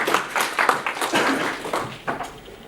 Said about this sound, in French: Félicitations, applaudissez-vous.